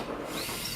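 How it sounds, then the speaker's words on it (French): Power drill whirring steadily under a continuous loud hum, run by a husband somewhere in the home, with no break across the brief moment. "si vous entendez du bruit, c'est mon mari qui perce"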